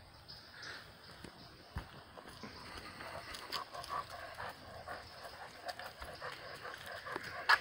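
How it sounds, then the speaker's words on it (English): A puppy pants quietly outdoors at a permaculture food forest with horses, soft rhythmic breathing mixed with faint shuffling steps and light rustling, low and close. "That's my puppy. He likes to pant."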